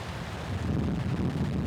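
Autumn sea on the Jeju coast, waves washing steadily onto a beach of round pebbles as a soft, continuous low roar with slight wind, moderately quiet and close.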